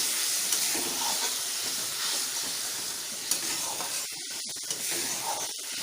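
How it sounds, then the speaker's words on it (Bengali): Spice paste cooking down in oil over a low flame for a Bengali bhetki fish curry, a steady soft sizzle and hiss with occasional scrapes of stirring toward the end. "মশলাটাকে আমি একটু কষিয়ে নেব তেলের উপর।"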